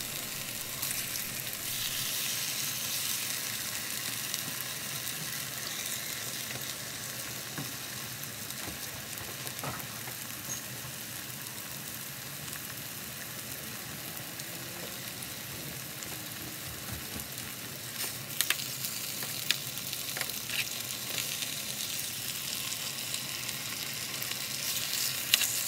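Pork chops fry in a hot pan, giving a steady, moderate sizzle and crackle throughout, with a few sharper pops near the end and no voices.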